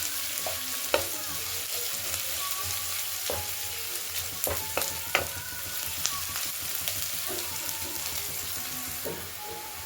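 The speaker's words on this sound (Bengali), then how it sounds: "তারপর কুচোনো রসুন দিয়ে দেবো দিয়ে ভালো করে পেঁয়াজের সাথে মাখিয়ে নিতে হবে" Chopped garlic sizzling with onions in a pan, a steady close frying hiss broken by sharp clicks and scrapes of stirring, with no voices.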